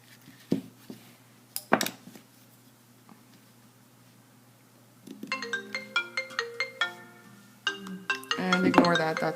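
A mobile phone ringtone plays during a Rainbow Loom band-crafting session, starting with scattered clicks and taps, then a bright repeating melodic ring that grows busier and louder toward the end, with no talking over it.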